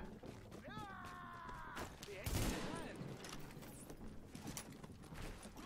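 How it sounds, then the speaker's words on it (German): Gunfire erupts in The Division video game during a side mission, rapid bursts of shots rattling off with a loud blast near the middle, beneath game sounds and someone talking. "Wird hinter dir geschossen?"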